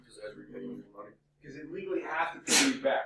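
A person sneezes once, loud and close, right after a stretch of talk about money and investing, with a short sharp burst of breath at the end.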